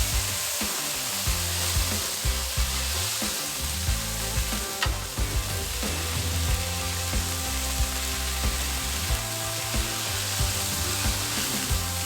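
Burgers frying on a Blackstone griddle outdoors in an RV setting, a loud, steady sizzle close up, broken by scraping spatula flips and a few knocks of metal on the hot steel surface.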